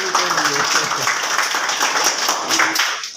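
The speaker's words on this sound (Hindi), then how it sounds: "ताली बजाओ भाई नीतू के लिए।" Schoolchildren in a classroom applaud a classmate with a dense, close burst of many small hands clapping, which fades out at the end.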